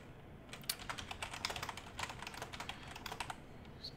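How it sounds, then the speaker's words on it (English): Rapid, irregular keystrokes on a computer keyboard, fairly close and moderately loud, continuing steadily for several seconds with no talking. "I know you guys are not seeing what I'm typing right now"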